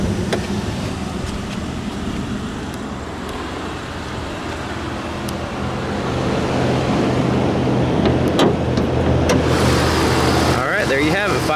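A 5.0 liter V8 engine idles with the hood open, a steady mid-range rumble growing slightly louder partway through, with clicks and a person talking nearby.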